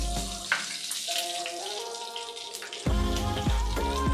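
Oil sizzles steadily in a pan while chicken sizzler is cooked, a bright crackling hiss with scattered pops, joined near the end by tonal background music.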